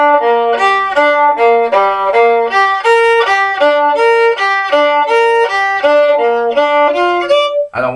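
A solo violin plays a phrase in triplet rhythm against 4/4 time, bright sustained notes moving in even groups of three, close and clear with no talking.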